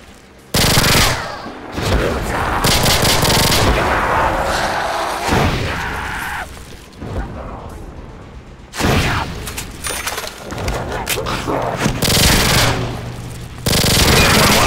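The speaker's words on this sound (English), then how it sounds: "Some bad gunshots!" Loud, sustained machine gun bursts in World at War Zombies, rapid automatic fire in several long volleys with brief pauses between them.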